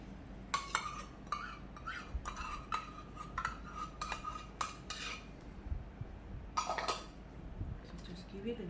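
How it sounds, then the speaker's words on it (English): A utensil clinks and scrapes against a pot while hot and sour soup seasoned with light and dark soy sauce is stirred, a quick series of metallic taps over faint background noise. "So just give it a good stir."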